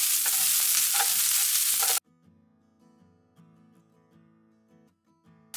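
Chopped onion hits hot coconut oil with a loud, close sizzle for about two seconds, then the frying drops away abruptly into a quiet, tonal background.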